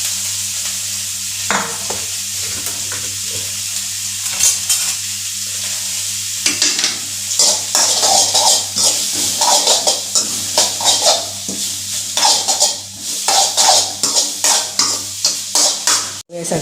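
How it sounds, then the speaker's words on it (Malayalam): Ginger and garlic sautéing in a pan for a masala: a continuous close hissing sizzle, joined about halfway through by rhythmic, repeated scraping strokes of a spoon stirring the pan. "ഇത് നമ്മൾ ഇഞ്ചി വെളുത്തുള്ളിയും കൂടെ ഇട്ട് കൊടുക്കാം. ജസ്റ്റ് ഒന്ന് വഴറ്റി എടുക്കണം നമുക്ക്."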